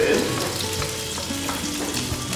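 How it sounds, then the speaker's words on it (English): Onions stir-fry in olive oil with a busy, crackling sizzle and scraping stirs, close and steady throughout with no voice over it. "So with stir frying, what you want to make sure you do is you continue to stir."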